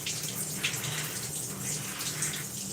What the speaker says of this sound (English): try to rinse out the product from your hair first